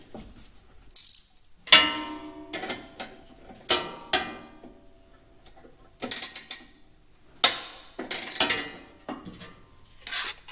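A 3/4 inch bolt is tightened with a ratchet wrench to raise the deck of a Husqvarna YTH riding lawn mower: bursts of rapid metallic clicking, close and fairly loud, with short pauses between strokes.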